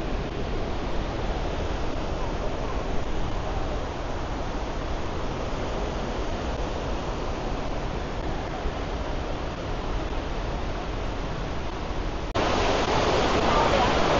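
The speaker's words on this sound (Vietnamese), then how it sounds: "Nước từ trên thác chảy xuống ha." Kuang Si waterfall in Laos pours down in a steady, loud broadband roar, continuous and close, with the rushing water growing slightly brighter toward the end.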